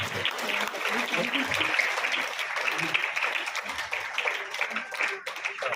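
A crowd at a Shivratri celebration in a Brahma Kumaris centre claps continuously, a bright, dense patter of many hands close by with voices mixed in.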